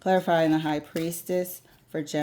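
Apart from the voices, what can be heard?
No distinct noise like a dog, phone or traffic.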